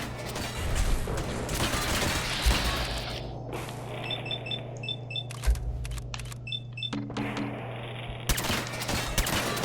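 Gunfire and weapon mechanisms in the modded video game Fallout 4: sharp shots, metallic ratcheting and clicking reload sounds with short electronic beeps over a steady low drone, several bursts spread across the span.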